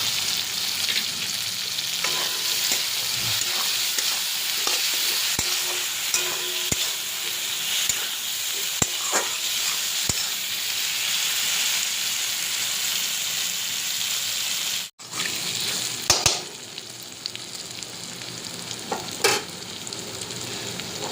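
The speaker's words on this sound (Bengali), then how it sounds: "এবার ভেজে রাখা আলু দিয়ে দিলাম।" Fried potatoes sizzle steadily in oily masala for a catfish jhol while being stirred, with loud, continuous frying and intermittent scraping clicks of a spoon, and a brief dip in the sizzle partway through.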